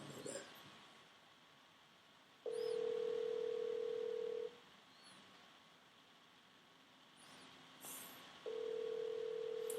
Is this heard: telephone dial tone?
yes